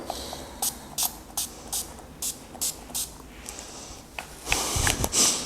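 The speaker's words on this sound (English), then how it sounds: "I'm going to put a setting spray on" Makeup setting spray on a face: a series of short, airy spray bursts, about eight quick pumps in a steady rhythm, followed by a longer, louder hissing spray near the end.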